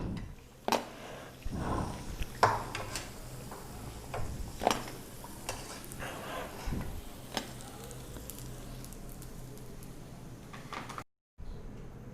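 Senai kizhangu (yam) vadai fry in hot oil with a steady, soft sizzle, punctuated by sharp clinks and scrapes of a ladle against the pan, heard alone without talk.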